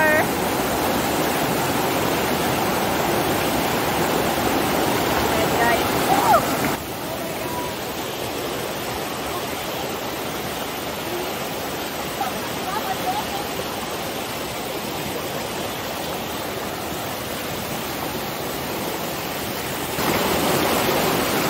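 Water rushes steadily at a natural swimming spot, forming a continuous broadband wash like a waterfall or fast stream that stays loud and close for the whole stretch, with voices talking at times.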